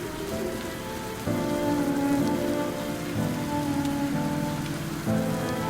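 Rain falls steadily in the video game Duet Night Abyss, an even hiss of drops on surfaces under sustained tonal music whose level rises in blocks, with no voices present.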